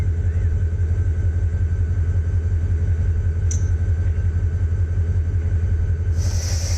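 Diesel freight train rolling downhill in the Run8 railroad simulator, a steady low engine and wheel rumble throughout with a brief clank midway and a hiss of air near the end.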